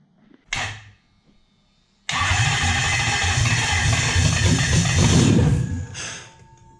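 A Toyota 1UZ V8 in a Hiace van gives a brief crank, then after a pause cranks again and catches into a loud, rough running roar for several seconds before cutting off, close by.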